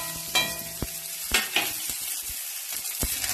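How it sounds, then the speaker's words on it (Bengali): Whole spices, cardamom and bay leaf, then chopped onion sizzle in hot mustard oil in a kadai for ghugni. A close, continuous crackling fry is cut by a few sharp clinks and scrapes of stirring. "এবার ফোড়নগুলো দিয়ে দিই, দিয়ে তারপরে পেঁয়াজ কুচিটা দিয়ে দিই।"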